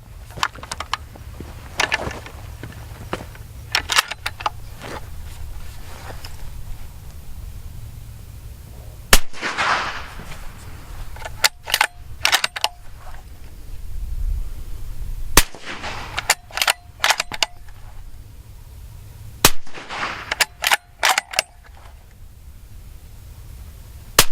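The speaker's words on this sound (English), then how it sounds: "So here we're going to go and shoot some rounds" Suppressed gunshots through a YHM Resonator 30 suppressor: a series of sharp, close cracks arrives in scattered clusters of two to four shots, separated by quieter gaps.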